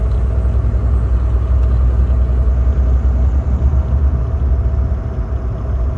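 Inside a car driving through mountain roads in California, a steady, heavy low engine and road rumble fills the cabin continuously, close and loud, with no voices.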